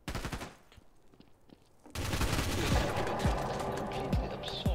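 Gunfire in the online game Garry's Mod, Trouble in Terrorist Town mode: a quieter patch of scattered shots, then a sudden dense burst of rapid automatic fire and loud individual bangs that continue to the end.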